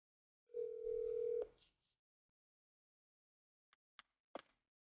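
A telephone ringback tone while calling someone: one long steady tone, then silence and a few faint short clicks.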